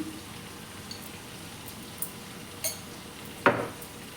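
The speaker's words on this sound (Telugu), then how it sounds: "బాగా కలుపుకోవాలి." Prawns with salt, turmeric and chilli stirred in a pan make quiet, sparse scraping and light clinks against the metal, with one sharper clatter near the end over a faint background hiss and no talking.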